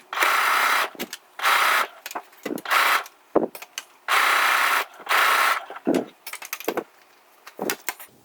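A sewing machine works its way around a Japanese knot bag in several separate bursts of stitching, each lasting about a second, with short pauses and small handling clicks between them.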